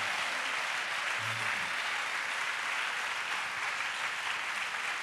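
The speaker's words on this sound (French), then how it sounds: "Clap your hands." A church congregation at an evangelism school gathering in Abidjan claps hands in steady, dense applause that fills the room at an even, loud level without a break.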